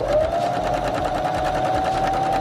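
A sewing machine stitching steadily around the channel line of a beginner fabric tank top, a continuous close whir with a level pitch and an even buzz that never pauses.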